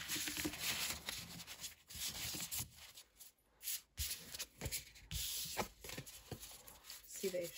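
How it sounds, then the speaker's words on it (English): Woodland Wardens oracle cards are shuffled by hand in a series of soft, close rustling and rubbing swishes, faint overall, while someone talks. "See, they shuffle"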